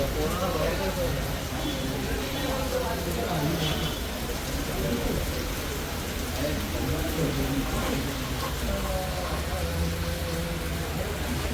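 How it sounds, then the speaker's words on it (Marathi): Heavy rain falls outside during a walking pilgrimage from Mumbai to Shirdi, giving a dense, constant hiss that fills the whole stretch while voices murmur and chatter beneath it. "डायरेक्ट आता पाऊस आला फुल मजबूत"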